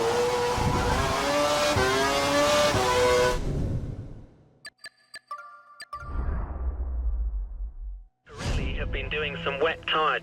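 An F1 car in the racing game F1 2012 runs on a soaked wet track: a loud, high engine wail with shifting revs cuts out, a few sparse electronic tones follow, then the engine snarls back in.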